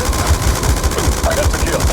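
Sustained automatic gunfire in the video game Call of Duty Black Ops 2, a loud steady rattle of closely spaced shots with radio-style voice chatter mixed underneath.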